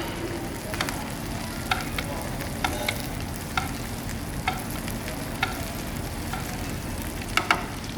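White meat sears in an oversized frying pan with a steady, loud sizzle, while a utensil scrapes and taps the pan at irregular intervals close by.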